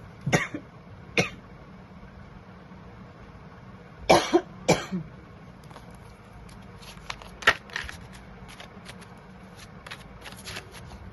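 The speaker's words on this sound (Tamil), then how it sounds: "எனக்கு ரொம்ப இருமல் வந்துருச்சு." A person coughs indoors, a few sharp harsh bursts early on and a close pair of louder coughs midway, followed by faint scattered crackles and rustles over a quiet background.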